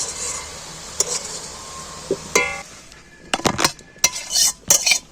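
Stirred cooked greens tip out of a metal wok, with scraping and clinking of a spatula and pan in bursts after a quiet stretch. A faint sizzle sits underneath.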